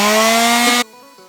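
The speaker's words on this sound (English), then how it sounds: "We're going to use our sander with this. Not just sandpaper, but the sander." An electric sander works on a wood platform for an SUV camper build, running as a loud, constant buzzing whine that cuts off abruptly partway through, leaving a faint hum.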